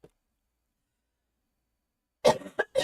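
Someone coughs twice up close, short sharp bursts after a long stretch of silence, with a faint throat sound at the very start.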